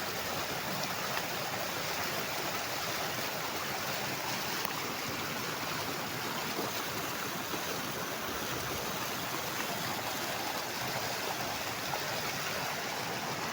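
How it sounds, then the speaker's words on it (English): A mountain river stream in Narastan flowing steadily, an unbroken, even rush of water close by, quiet and with no voices. "You can see how water is flowing like a milky stream."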